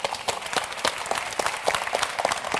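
Audience applause at a relationship talk event, a brief burst of lively clapping with individual claps audible at close to moderate distance.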